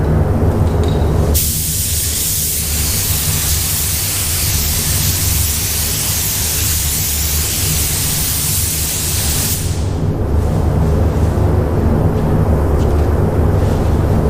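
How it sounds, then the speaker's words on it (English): A spray gun shoots clear coat onto a painted panel in one long, loud, close hissing burst that stops sharply, with low background rumble before and after. "we're going to start shooting some clear on this"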